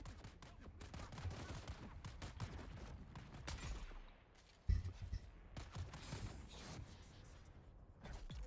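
Rapid gunfire from a Dune-themed video game battle against desert deserters, a dense stream of loud shots that dips briefly before a sharp burst and resumes steadily.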